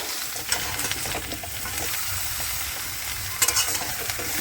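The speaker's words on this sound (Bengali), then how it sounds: "পুরো মিশিয়ে নিচ্ছে আমার আচারটা এইভাবে নাড়াচাড়া দিয়ে" Mango pickle cooking in a pan is stirred with a spoon, producing continuous scraping and stirring noises over a steady sizzle, with a sharper clatter near the end; no talking.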